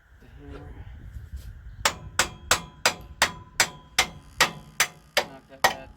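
About a dozen evenly spaced metallic hammer blows knock a pin into a hydraulic cylinder on a 1984 Belarus 400A tractor, sharp and close, after a few seconds of quieter workshop noise.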